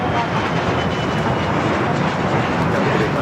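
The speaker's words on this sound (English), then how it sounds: "NetJets 816, Cessna citation, longitude taken off to San Jose, California" A Cessna Citation Longitude business jet, NetJets 816, takes off at Los Angeles airport, a loud, broad, continuous engine roar that holds steady at a distance throughout.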